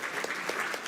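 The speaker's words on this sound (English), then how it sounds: "yes, please clap" A small audience at a cocktail science talk claps briefly, a thin, soft patter of a few hands heard at a distance for under a second.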